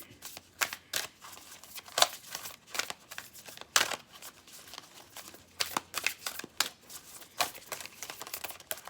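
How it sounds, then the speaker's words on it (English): Stiff new tarot cards riffled and shuffled close by, a busy run of crisp flicking bursts with short pauses, no talking. "These cards are new and they're still hard to shuffle"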